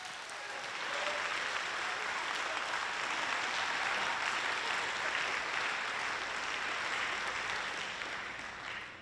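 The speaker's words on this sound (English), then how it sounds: "Please clap for these all-county band members." Sustained applause from a school concert audience for all-county band members at a high school spring band concert, a dense, even wash of many hands clapping for about nine seconds, tapering slightly at the end.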